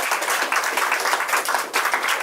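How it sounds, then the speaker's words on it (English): Steady, close applause from members at a video game development club meeting carries on unbroken at even volume, with no talk over it. "So a round of applause for them."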